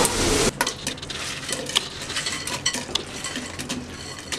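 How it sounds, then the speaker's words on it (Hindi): Pakoras frying in a pan for kadhi pakora, a sizzle under repeated metallic clinks and scrapes as a utensil stirs against the pan, the clatter coming in irregular bursts. "अब मैंने पकौड़े फ्राई करने के लिए रख दिए।"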